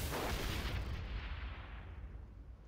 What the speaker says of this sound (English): Potato gun.